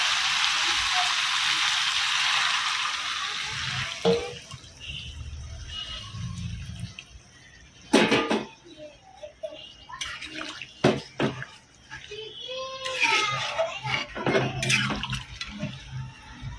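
Meat stock poured into a pan of oil-fried spices makes a loud, steady hiss and sizzle for several seconds, then it fades to scattered bubbling and clinks as a voice speaks intermittently.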